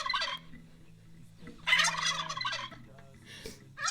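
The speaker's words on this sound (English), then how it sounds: "We're gonna learn the sound that a turkey makes." A recorded turkey gobbling: three separate rapid, warbling gobble bursts, loud and close, with quiet gaps between them and no talk.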